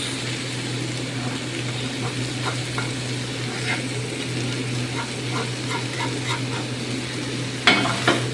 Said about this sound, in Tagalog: Lagyan na natin guys yung pinirito natin na patatas saka carrots.